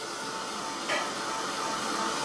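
A heat tool blows steadily on drying paint, a loud, even hiss of hot air held close throughout, with a slight bump in tone partway through.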